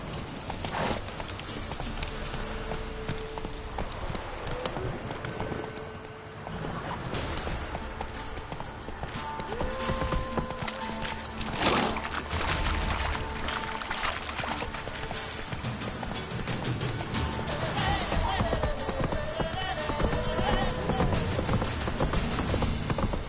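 Roach, the horse in The Witcher 3, gallops with a quick rhythmic clatter of hooves, loud and continuous, under game music and ambience.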